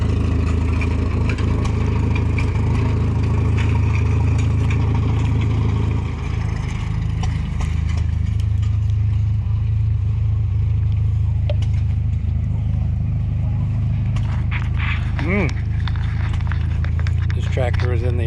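An offset Ford tractor engine idles and runs steadily at an antique machinery show, a continuous low rumble close by with people talking over it throughout.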